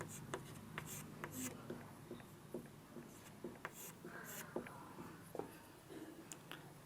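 Marker or chalk writing on a board during a physics lecture on electric field lines, a steady run of short scratchy strokes at moderate level, with a voice talking faintly underneath.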